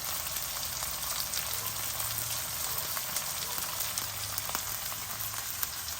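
Chopped green chillies and fresh curry leaves fry in hot oil in a pan, giving a soft, steady sizzle and crackle throughout, with no talking.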